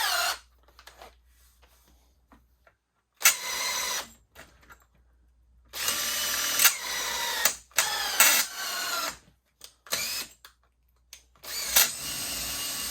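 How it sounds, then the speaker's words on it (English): A power drill whirs in repeated bursts, starting and stopping several times as it bores through magnesium with a 17/64 bit, close by with no talking. "So first of all, you're going to drill your hole, right?"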